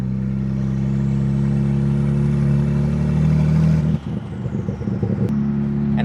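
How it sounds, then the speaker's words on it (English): A BMW 335i wagon drives with its turbo engine pulling, a loud steady mid-pitched drone with a rising whistle that suddenly breaks into clattering and whooshing when the throttle lifts, then settles back. "And you got turbo noises, which sound awesome."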